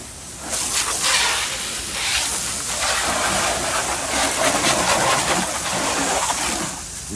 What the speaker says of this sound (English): I'm going to wet the rest of the car now.